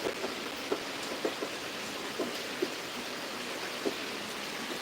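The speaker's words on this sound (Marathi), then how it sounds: "आता पाऊस परत सुरू झालेला आहे" Steady hiss of a heavy monsoon downpour in the Konkan region, fairly quiet and even, with occasional soft drip or tap sounds standing out.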